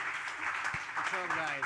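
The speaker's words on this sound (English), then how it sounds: "Give them a great round of applause as well." Audience clapping for a Le Wagon Lisbon coding bootcamp team at a demo event, moderate applause mixed with talk and a few tonal voice traces near the end.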